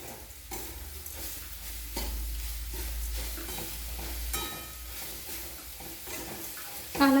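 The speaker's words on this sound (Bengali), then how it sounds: "এরপর নাড়াচাড়া করে নেব 5 থেকে 7 মিনিট।" Grated coconut mixed with grated beetroot is stirred in a pan over a medium-low flame. A steady scraping stir runs throughout over a soft, continuous sizzle.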